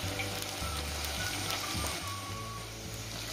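Eel, long beans and sliced round onions fry in a wok with a steady close sizzle, a continuous hiss over faint clatter.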